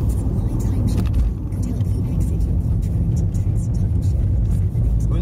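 A car engine runs in a parked bay at a recycling centre, a loud, steady, unbroken rumble and whir that continues for several seconds.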